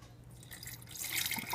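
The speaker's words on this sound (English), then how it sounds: "Pour the water in here." Water is poured into a Lil Jumbl MealPro machine, a close trickling splash that swells and brightens toward the end as the stream fills the reservoir.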